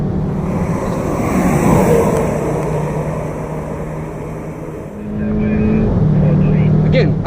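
A Volkswagen races down the straights of a track at night, its engine droning loud and steady from inside the car, the pitch rising and settling through gear changes.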